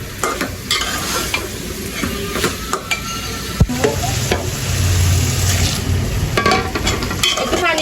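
Vegetables being stirred in a frying pan for a dry Bengali curry, a steady sizzle with repeated scraping strokes of a spoon against the pan, close and fairly loud throughout.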